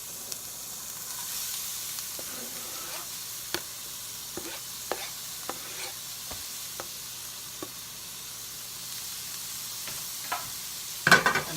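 A shallot or onion hits hot oil in a pan for yellow rice with peas and sizzles steadily at low level, with scattered clicks and taps of stirring and a louder clatter near the end.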